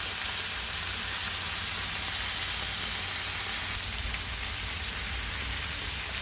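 Applewood smoked bacon fries on a hot Blackstone griddle, giving off a loud, even crackling hiss close by that drops slightly in level partway through and then carries on steadily.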